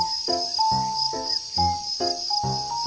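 Crickets chirp close by in a steady pulsing trill, regular bursts repeating every half second or so over a faint tonal hum, with no voices.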